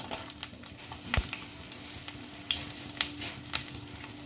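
Bori, small sun-dried lentil dumplings, fry in hot oil in a home kitchen with a steady close sizzle, punctuated by a few sharp pops and spatters, no talking.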